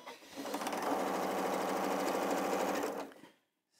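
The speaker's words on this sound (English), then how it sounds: "I'm continuing to sew my rows" A sewing machine runs steadily while stitching quilt block rows together, a continuous close whirring hum for about three seconds before stopping, with no talk.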